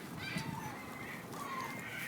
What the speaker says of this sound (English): Look at all the freaking birds you're attracting.